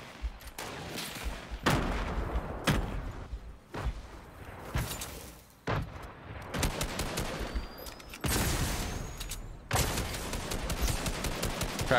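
Fortnite gunfire comes in repeated loud bursts of close automatic shots with brief pauses between volleys, all through the clip.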